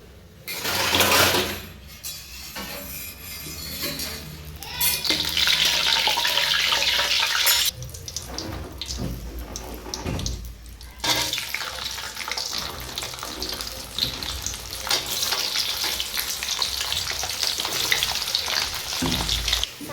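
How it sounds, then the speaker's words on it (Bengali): Chilies, bay leaves and garlic frying in oil for an olive pickle, a loud crackling sizzle that flares and settles, with brief pauses and stirring bursts, close and continuous without talk. "তেল নিয়ে নিব পরিমাণ মতো, তারপর দিয়ে দেব মরিচ, তেজপাতা এবং রসুন।"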